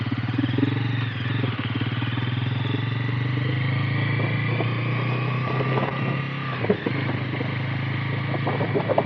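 A Bajaj Pulsar 400Z motorcycle being ridden, its engine a steady droning hum with slight rises and falls in pitch.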